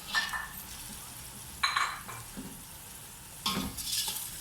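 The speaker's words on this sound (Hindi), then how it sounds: "अब हम डालेंगे टमाटर और हरी मिर्चें," Tomatoes and green chillies drop into a pan of frying onions for village-style chicken pulao, a low sizzle under a few short bursts of utensil scraping and clinks against the pot.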